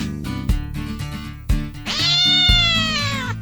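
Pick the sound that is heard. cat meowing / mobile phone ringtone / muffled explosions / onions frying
cat meowing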